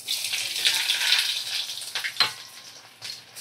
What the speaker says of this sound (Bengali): এবারে দেখো, আমি কুচনো পেঁয়াজ দিয়ে দেব।